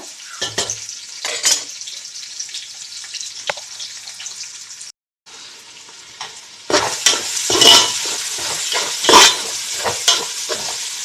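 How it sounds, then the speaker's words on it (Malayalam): Onions and carrots fry in a pan as a steady sizzle, with stirring scrapes and clacks that grow louder and busier toward the end. "ഉള്ളി ക്യാരറ്റും എല്ലാം ഒന്ന് നമുക്ക് പൊരിച്ചെടുക്കാം നല്ല ചുവന്ന് വരണം"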